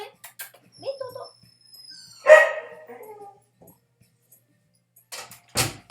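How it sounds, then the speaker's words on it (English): Dogs bark indoors in a few short, sharp bursts spread out between quiet gaps, with a high-pitched synthetic whistle and some background noise. "Those are my dogs."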